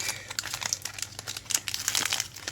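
Plastic wrapper of a Magic the Gathering Guilds of Ravnica booster pack being torn open and handled, a steady run of close, crisp crinkling with sharper crackles throughout, no talking.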